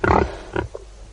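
Pigs grunt as a radio drama sound effect: two short, thick grunts sound close up, with a fainter third one following, all within about a second.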